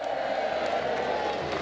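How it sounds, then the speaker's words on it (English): Crowd at the Clun Green Man Festival procession in Shropshire gives a sustained, loud cheer, a dense wash of many voices with whoops and shouts running steadily throughout. "A big cheer for the Green Man!"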